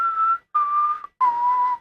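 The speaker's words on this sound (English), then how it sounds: "came up with mad stuff like escape music whistling" Three sustained whistled notes, each held for about half a second with short gaps, close and clear with no other sound.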